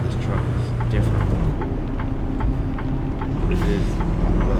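A Western Star truck's 600-horsepower engine in American Truck Simulator rumbles steadily with a low drone and a faint repeating ticking on top, while a person talks over it.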